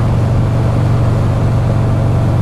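A Buell motorcycle engine idles with a steady, even, low drone that holds constant throughout, with no voices over it.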